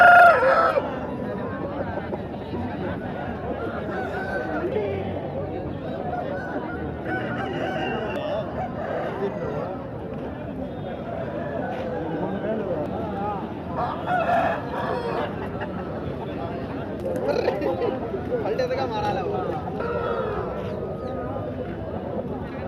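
Chickens and roosters at the Piler Sunday market cluck and crow throughout, with a loud crow at the start, while people talk over the steady poultry noise.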